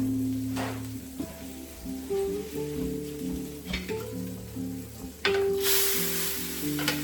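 Fish sizzling and frying in a pan for a seafood paella, a steady crackling hiss with stirring clatter and a louder burst of sizzle near the end.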